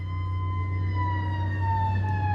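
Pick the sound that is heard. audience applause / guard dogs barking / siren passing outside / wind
siren passing outside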